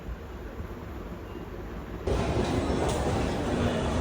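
A Delhi Metro train at a station, a steady low rumble of rolling carriages that suddenly grows louder and brighter halfway through as the train draws in close, with no talk.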